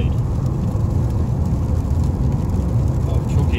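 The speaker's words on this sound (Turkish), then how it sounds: "Abi çok iyi yağıyor." Heavy rain drums steadily on a moving car on a long highway drive, a dense continuous hiss over low road and engine rumble throughout.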